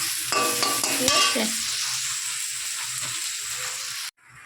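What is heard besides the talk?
frying potatoes and spices in a pan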